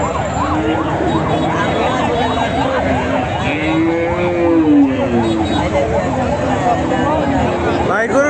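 A cow mooing at a crowded cattle market, with drawn-out moos rising over a siren-like wail and constant nearby chatter, loud and close.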